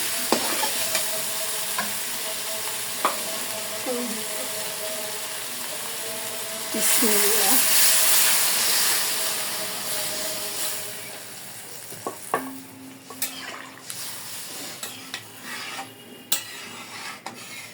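Potato pieces stirred in a pan of hot oil while cooking a river aair fish curry, a steady sizzle with scraping spoon strokes, near and moderately loud, with a brief louder burst in the middle.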